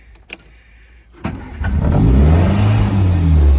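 A 1958 MGA MK1 sports car starts: a brief click and starter whir, then the engine catches quickly and settles into a steady, loud, close idle rumble.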